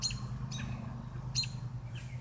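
A small bird found on a trampoline gives three or four short, high chirps spaced apart, close and clear over a low steady background hum.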